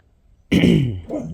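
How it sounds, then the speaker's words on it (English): A single close, rough throat clearing by a woman early in the morning, a low rasping grunt lasting under a second. "I keep having to clear my throat"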